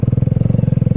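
A dirt bike engine runs close up in January, a loud, rapid, evenly pulsing putter for about a second.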